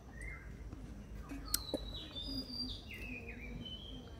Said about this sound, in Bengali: ওই যে পাখি ডাকগুলো থাকে